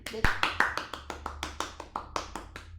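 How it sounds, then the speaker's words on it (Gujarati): An audience at a women's celebration event claps together in a quick, even rhythm, about a dozen crisp, sharp claps in steady succession. "તો એટલા માટે આજના દિવસે વુમન્સ સેલિબ્રેશન પર આપણે આપણી જાતને તાળીઓના ગડગડાટે વધાવી લઈએ"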